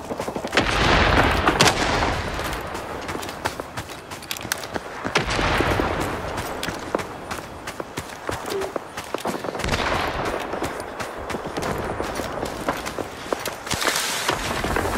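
Rising Storm 2: Vietnam battle scene with dense crackling gunfire and bursts of automatic fire, broken by heavy booming artillery impacts near and far, loud and continuous over the whole stretch.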